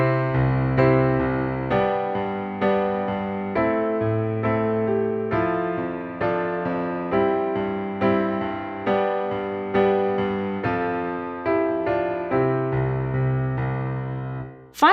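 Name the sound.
piano playing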